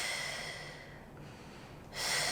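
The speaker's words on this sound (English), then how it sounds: "inhale, exhale, and keep breathing here." Someone breathes deeply while holding a deep squat, a long airy exhale that fades, a quiet pause, then a sharp audible inhale near the end, close and alone.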